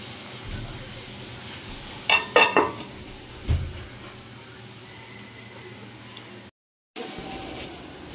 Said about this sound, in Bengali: এবারে কাজু কিশমিশ ভাজাটা দিয়ে দেবো। এবারে একবার এটা ভালো করে নাড়িয়ে একটু ঢাকা দিয়ে দেবো।